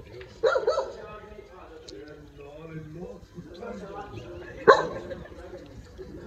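A dog barks in two sharp bursts near the start and again around the middle, loud and close, with people talking in Hindi in the background between the barks.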